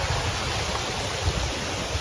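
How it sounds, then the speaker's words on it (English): Broadband rush of rainwater flowing down a hillside near a natural pool at Nui Beach, Phuket, after several rainy days; a steady, continuous close wash with no voices. "there's very much water coming down the hill after these rainy days"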